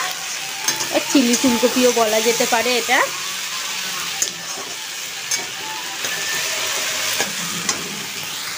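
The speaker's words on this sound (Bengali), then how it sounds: "তো আদা বাটা রসুন বাটাটাকে একটু ভেজে নিই।" Ginger and garlic paste fries in a pan for chilli cauliflower, a steady close sizzle with occasional spoon taps, with a person talking briefly over it at the start.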